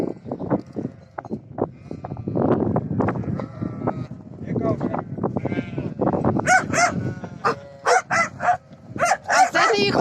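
A person talks at first, then several sheep bleat repeatedly, loud and overlapping, close by on a snowy village farm.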